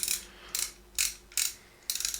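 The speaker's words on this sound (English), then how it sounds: "ratcheting mechanism" Ratchet of a KATSU 3/8 inch socket wrench clicking in five short bursts of rapid ticks, close and crisp, with brief pauses between strokes and no talking.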